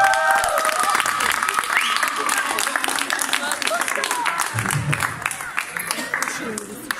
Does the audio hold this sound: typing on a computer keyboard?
no